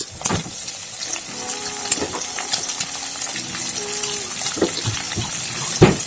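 Onion frying in oil for pork fried rice gives a steady bubbling sizzle with sharp crackles and splashes, close and fairly loud throughout.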